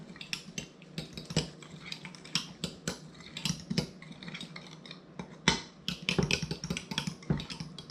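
A utensil mixes a batter of egg whites, psyllium husk and nutritional yeast in a bowl, making quiet, irregular clinks and scrapes in steady bursts, with no talking.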